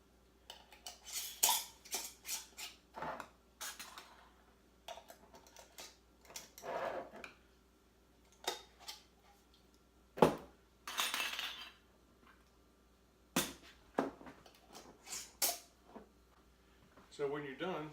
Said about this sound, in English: You just want to finger tight these bands.